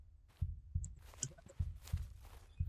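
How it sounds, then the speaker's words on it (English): Heavy heartbeat pounding in the horror video game Tung, slow paired thumps repeating about every half second, close and muffled, with faint clanks and creaks between beats. "I hear my heart pounding every time I go past here."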